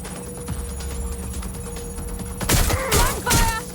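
Gunfire in the Watch Dogs: Legion video game, a low background hum with a few scattered distant pops, then a loud burst of rapid shots near the end, close and harsh.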